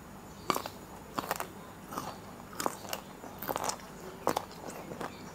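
Plump asparagus being bitten and chewed up close during a meal, sharp crunchy snaps at irregular intervals with softer chewing crackles between them and no talk.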